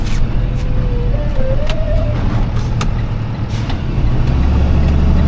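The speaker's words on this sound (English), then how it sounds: "Brake pedal singing." Brake pedal squeaking in a car during a short drive to an auto shop, a thin rising whine sounding briefly twice over the steady rumble of road and engine noise, with a few faint clicks.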